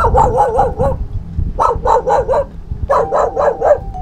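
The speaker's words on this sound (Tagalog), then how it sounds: "May aso pumapaghok." A dog barks repeatedly in three quick bursts of rapid yapping, close and loud, beside a cemetery, with low rumbling background noise between the bursts.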